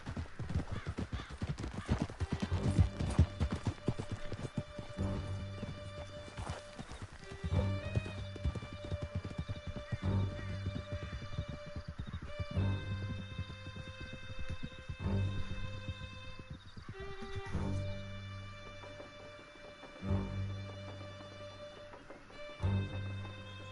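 Horses gallop in a canyon during a Western chase, hooves clip-clopping steadily and close up, with occasional whinnies over a constant backing of music.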